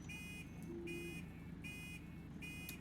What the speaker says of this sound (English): That is the staple indicator chirp sound